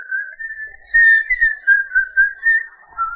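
Two apprentices whistle to imitate the sound of a pocket watch in a comedic zombie film: a steady, slightly warbling high whistle that pulses in volume, held alone without talk.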